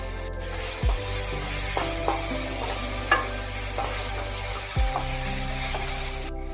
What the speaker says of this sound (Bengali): মশলা দিয়ে ভালোভাবে একটু নাড়াচাড়া করে নেওয়ার পর ছোট করে কেটে রাখা টমেটো দিয়ে দিলাম